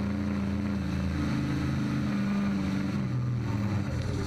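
An outlaw pulling truck engine roars continuously from onboard during a pull, a loud steady drone with shifting low tones and heavy wind noise, no talk.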